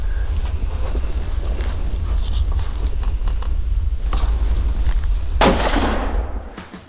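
A single sharp rifle shot rings out outdoors during a deer hunt, a loud crack followed by a short echoing decay after several seconds of quiet wind and rustling.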